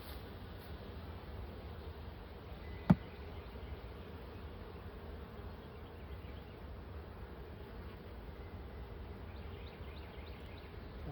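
Honeybees buzzing steadily during a hive inspection, a continuous close drone filling the whole stretch, broken once by a brief sharp click.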